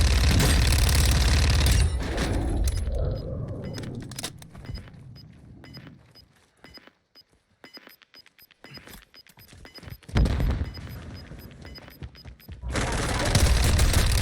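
Bursts of gunfire in a tactical shooter game, a heavy fusillade at the start and end with scattered single shots and quieter stretches in between, fairly loud and close.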